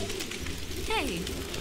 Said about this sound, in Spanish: Qué bonito los pájaros.